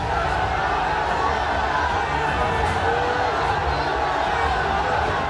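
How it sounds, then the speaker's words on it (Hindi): A dense, noisy protest crowd fills the space outside a mosque after Friday prayers, a steady roar of many voices and chatter with no single voice standing out. "मस्जिद की इमारत से लेकर सड़क की रेलिंग तक भारी भीड़ है और ये शोर इस बात की गवाही दे रहा है कि हालात कितने तनावपूर्ण हैं"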